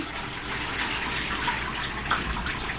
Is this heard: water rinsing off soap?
yes